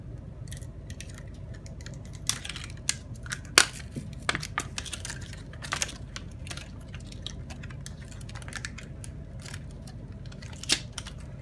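Blade slicing through the plastic wrapping of an ebike battery pack built from 18650 cells, heard as a series of close, sharp ticks and snips scattered irregularly over a low steady background hum, with no talking.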